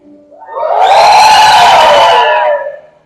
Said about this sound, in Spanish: ¿Y qué tal si damos un grito de júbilo?